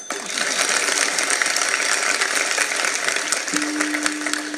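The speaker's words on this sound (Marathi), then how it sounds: "अशा मरगळ आल्यासारख्या टाळ्या काय वाजवता?" An audience at a kirtan claps in a dense, continuous patter that stays fairly loud and even from start to finish.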